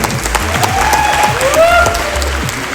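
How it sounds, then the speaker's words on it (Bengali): A crowd at a concert venue event claps together in sustained applause, loud and close, with voices calling out through it. "আমরা একটা করতালি দিলে নিশ্চয়ই তারা শুনতে পাবে"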